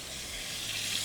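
A Fiordland wapiti leg steak searing in a hot pan makes a continuous, even hiss, close by and moderately quiet, with no other sounds breaking through.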